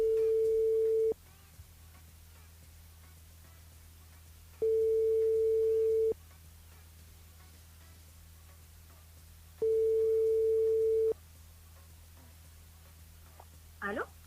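Telephone line tones from a radio call-in giant phone line: three sustained steady beeps, each about a second and a half, separated by long gaps over a low hum, with a brief click at the end.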